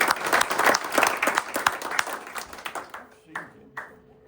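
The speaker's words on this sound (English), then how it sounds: "And so please give a round of applause for Tom Basore." Audience applause in a hall at the 46th annual Wichita postcard show, a dense burst of clapping for a speaker that tapers off after about three seconds, leaving a few scattered claps.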